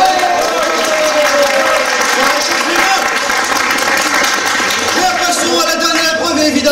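A game show audience applauds a contestant after an exceptional comeback, a sustained wash of clapping lasting the whole stretch while a host's voice talks over it.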